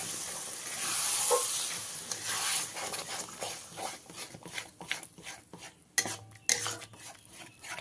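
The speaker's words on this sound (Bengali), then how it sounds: "দইটা দিয়ে খুব ভালো করে মিশিয়ে নিতে হবে" Whisked sour curd being stirred into a katla fish masala in a pan over low flame, with steady scraping and stirring clatter, soft sizzle underneath and a few sharp utensil knocks toward the end.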